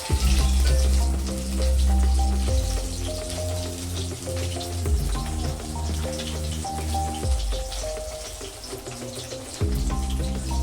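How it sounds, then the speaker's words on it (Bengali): Fish fry in hot oil in a home kitchen, giving a dense, steady sizzle and crackle that carries on throughout, close and fairly loud, over a background of low tonal music. "তো মাছগুলো আমার প্রায় ভাজা হয়ে গেছে"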